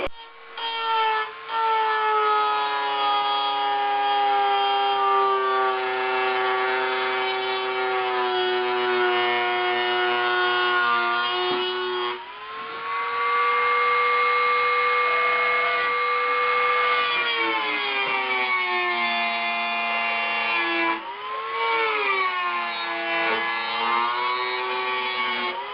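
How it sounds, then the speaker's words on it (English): A Dremel cuts out rusty body metal on a 1976 Mazda RX-5 Cosmo, a high-pitched rotary whine with strong harmonics that holds steady, dips briefly as the tool bogs under load, then rises again, continuous and close. "I'm just going to Dremel out this area and then cut a patch for it."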